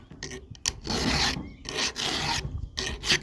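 A round file rasping across an unsharpened chainsaw chain, three or four close, gritty strokes in a back-and-forth rhythm with short pauses between them.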